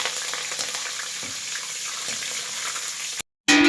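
Curry leaves hitting hot oil in a pan while making a beaten-rice (poha) mixture, giving a loud, steady crackling sizzle that runs alone and cuts off abruptly near the end.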